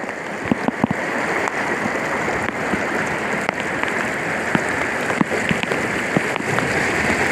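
Floodwater from a river that burst its banks rushes across a road through a residential area, a steady broadband roar of flowing water with scattered splashes and drips, loud and continuous throughout.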